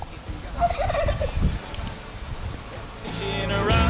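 A wild turkey gobbles in turkey season, with a jake and a tom present outdoors; a short rattling gobble rises near the start and another burst at the end, over steady wind and outdoor background noise.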